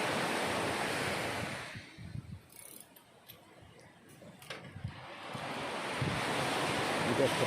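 Sea waves surge at an open-water fishing spot, a loud rushing wash that eases into a quieter lull with a few small clicks, then builds again with wind noise on the microphone.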